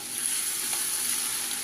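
Beef pieces frying in coconut oil in a pan over a medium flame, a continuous close hiss and sizzle with faint crackles, steady and without talk.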